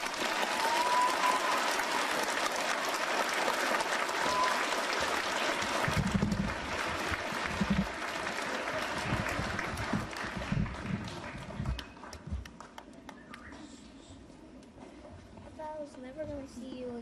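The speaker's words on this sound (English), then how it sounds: "Give him another round of applause." Sustained applause from a crowd fills the scene, steady clapping that gradually thins out toward the end, with voices mixed in.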